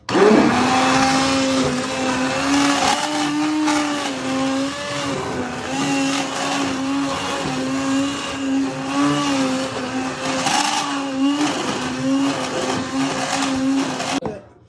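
A blender purees winter vegetable soup with a loud, steady whirring motor whose pitch wavers slightly as the contents churn, running continuously close up with no talk.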